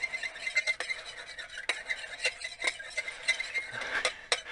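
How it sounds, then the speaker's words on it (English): A spoon scrapes and clinks against the metal insert of an Instant Pot while pork chops are stirred, giving a run of irregular close taps and scrapes with no talking over them. "I want to kind of stir this up down here"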